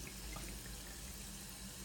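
Water draining steadily while a home heating boiler is bled of air, a continuous soft hiss and trickle, close but quiet, with no voices.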